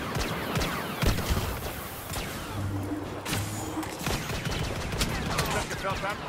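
Rapid blaster fire fills a Star Wars Battlefront (2015) battle, with repeated sharp shots and bursts over continuous combat noise, close and loud, mixed with game voices.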